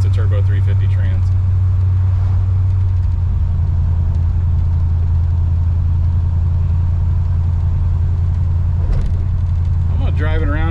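A 1954 Chevrolet Bel Air with a three-speed Turbo 350 automatic transmission rumbles steadily while driving, its low engine drone loud and continuous throughout, with a brief voice near the start and end.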